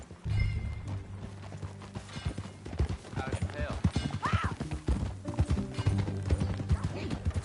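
Horse hooves clatter in a steady galloping rhythm under game music in Red Dead Redemption 2, with a horse whinnying and voices talking over the ride.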